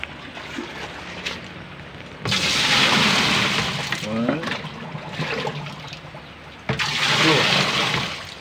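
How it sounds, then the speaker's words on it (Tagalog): Water is poured in bursts into a washing machine during a drain leak repair, with two loud rushing splashes separated by quieter handling noises, and people speak in between. "lalagyan uli natin ang tubig"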